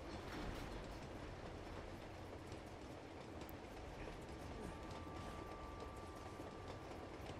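A train in the video game Uncharted 2: Among Thieves rumbles along in a faint, steady rolling clatter of wheels on track, continuous for several seconds with no talk.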